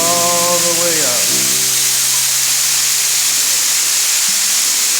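A spray gun on an air hose lays down high build primer with a loud, continuous broadband hiss. A brief tonal whine sounds at the start.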